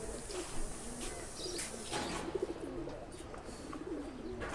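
A tournament racing pigeon coos softly in short, faint bursts over a low background hum, with no one talking.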